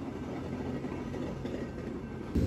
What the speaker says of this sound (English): our train showed up, which was actually on time